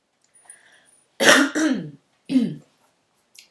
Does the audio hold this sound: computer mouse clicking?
no